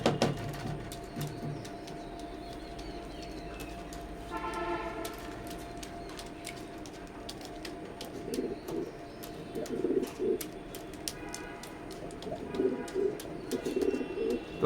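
Imported teddy pigeons coo in low, soft rolling calls, repeating throughout at close range with a faint steady tone and scattered clicks in the background, no talking.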